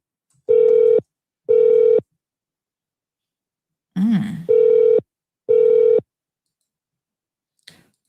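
Phone ringback tones on an unanswered call: four even, loud half-second rings spaced about a second apart, with a brief clatter between the second and third and a faint click at the end.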